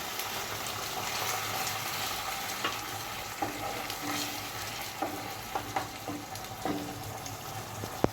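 Spiced water poured over onions frying in hot oil, a steady loud sizzle with occasional stirring clinks and small pops, close up, no voices.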